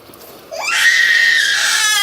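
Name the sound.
child screaming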